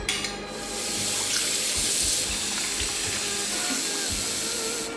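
Blanched beef brisket rinsed under a running tap, a steady loud rush of water splashing over meat in a sink, continuous for several seconds with faint low knocks underneath and no speech.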